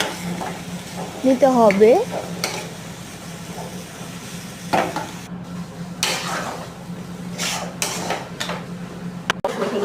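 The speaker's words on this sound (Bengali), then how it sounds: "শাকগুলোকে আবারও ভালোভাবে নেড়ে চেড়ে নেওয়ার পরে শাকগুলোকে ভালো করে মজিয়ে" Leafy greens fry in a pan while a utensil stirs them, giving soft sizzling with scraping strokes and a few sharp knocks against the pan; someone speaks briefly early on.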